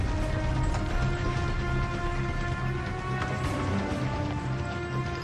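Steady rain patters on the canvas covers of pioneer wagons carrying provisions westward, a dense, continuous hiss of drops at an even level with no voices.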